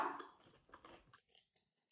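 Close, quiet chewing of a crunchy Coca-Cola flavoured snack, with a few crisp bites and crunches that fade into softer mouth sounds.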